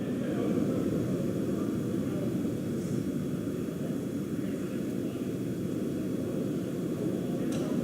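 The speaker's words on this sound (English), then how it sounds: "We're throttling down the Merlin engines on the first stage." Falcon 9 first-stage Merlin rocket engines throttling down during launch, heard as a steady, distant broadband roar without distinct bursts, holding even in loudness with no talking.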